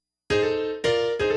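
Short blues piano riff in F: sustained chords struck in three close attacks, the first ringing longest, played alone, clear and moderately loud.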